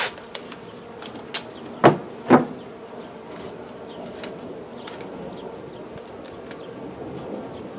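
Bees hum in a low, steady drone during removal of a hive from a speaker box, with a few sharp, close buzzes as individual bees fly past the microphone; no one speaks.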